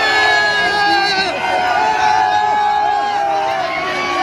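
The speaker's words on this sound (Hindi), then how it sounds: "तालियों की गड़गड़ाहट सुनाई दे रही है" Cricket fans gathered at India Gate cheer after India's semifinal win over Australia, a loud, dense crowd roar with rising shouts and whoops throughout, with voices mixed into the din.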